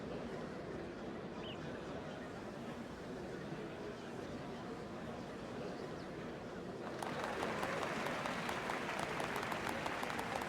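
Crowd applauding in Final Fantasy XIV: Dawntrail, a soft continuous murmur of claps that swells noticeably louder partway through and carries on steadily to the end.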